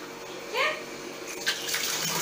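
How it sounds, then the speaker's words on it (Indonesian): Water gushes from a newly repaired household tap as it is opened into a storage basin, a steady close splash that swells briefly then continues as a bright hiss. "ini air sudah mengalir ke penampungan air dan kita akan mencoba apakah keran ini bisa berfungsi normal atau tidak"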